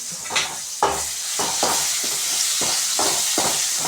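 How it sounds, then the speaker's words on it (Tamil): Onions and tomatoes sautéing in a pan for a green brinjal thokku kulambu, a steady close sizzle with repeated scraping stirs of a spoon against the pan, no talking. "வெங்காயமும் தக்காளியும் நல்லா வதங்கணும்"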